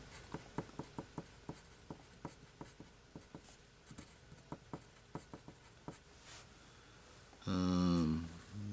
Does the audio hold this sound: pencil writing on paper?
yes